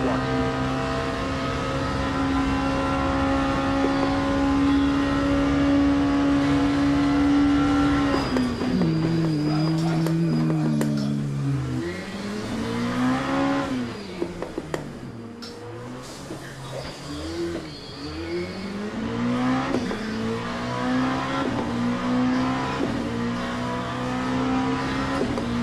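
A Ferrari GTE race car laps Fuji in a racing video game, its engine droning steadily loud, then dropping and rising through gear changes and corners, with faint talk mixed underneath.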